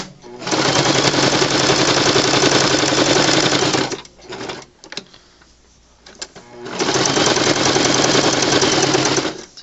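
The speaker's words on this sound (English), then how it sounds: "we're just going to do a straight stitch all the way around" A sewing machine runs a fast straight stitch around the edge of fabric for a toy train, loud continuous whirring in two long bursts separated by a short pause with light handling noises.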